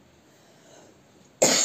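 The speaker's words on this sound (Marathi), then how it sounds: "खूप दिवसापासून मला खोकला आहे" A single sharp, loud cough bursts out close by at the end, after a quiet kitchen moment while onions are being sautéed for a tendli masala dish, from a cook with a lingering cough.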